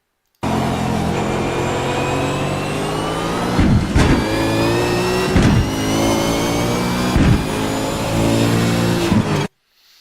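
A V8 race car engine on the Montreal circuit in a racing video game, revving and accelerating steadily with rising gear whines, three sharp gear-change dips, loud and close throughout with no talk.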